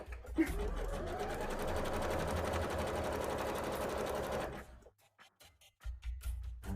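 A sewing machine runs in a fast, steady mechanical whir for several seconds, then stops, leaving a few soft clicks and handling noises.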